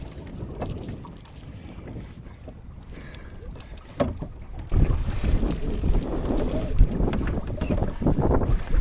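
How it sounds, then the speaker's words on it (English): A sailing boat under way heading south down the Menai Strait, with steady wind buffeting the microphone and water rushing along the hull, growing louder and rougher about halfway through, with no talking. "We set sail once again, but this time heading south down the Menai Strait."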